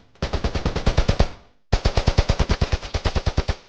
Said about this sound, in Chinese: 子弹一发发的射击，对他来说就是一种享受